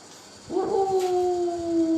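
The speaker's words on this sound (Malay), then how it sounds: "Apabila kamu mendengar lolongan anjing, salakkan anjing." A dog gives one long, sustained howl that starts suddenly and holds a steady, slightly falling pitch, clear and fairly close.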